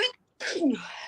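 A single sneeze during a sports talk show about women's basketball: a brief intake of breath, a short pause, then the sharp, close, fairly loud burst of the sneeze trailing off, with no talking over it.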